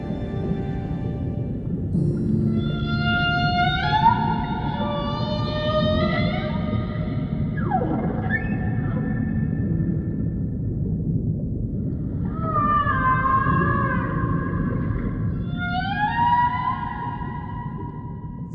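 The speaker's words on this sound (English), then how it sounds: "Males can create a complex song to attract mates, which can last 10 to 20 minutes." Humpback whale song, the long complex call males make to attract mates: a series of rising and falling moaning, whistling phrases repeated in groups over a steady low underwater rumble, with no voices.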